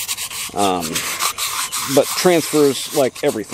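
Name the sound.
sanding chainsaw cylinder ports with sandpaper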